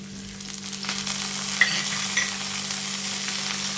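Pepper, ginger and green chillies frying in a pan, a steady close sizzle of hot oil with a light scrape or two of stirring and no talking.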